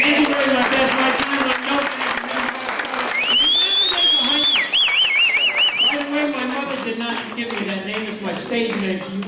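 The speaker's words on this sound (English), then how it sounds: "give them that applause" Comedy-night crowd at the Spread Eagle applauding between acts, steady clapping throughout with cheers and whistles rising over it, a host's voice talking on top, and a brief whoop mid-way.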